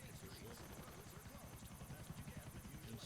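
Steady rhythmic rotor chopping of a video game helicopter fills the clip, loud and continuous, with a voice talking over it.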